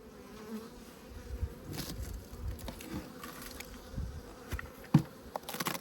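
Honey bees buzz around a hive entrance in an apiary, a dense continuous drone of many insects with individual bees zipping close past, fairly quiet, no talking.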